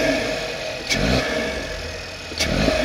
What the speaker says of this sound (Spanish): Acelera y desacelera.